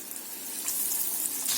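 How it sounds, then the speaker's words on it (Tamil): Fish pieces fry in hot oil for a fried fish curry, giving a steady, fairly loud hiss and crackle that runs unbroken through the whole moment with no talking. "எண்ணெய் சூடானதும் மீன் துண்டுகளை போட்டு பொரிச்சு எடுத்துக்கோங்க."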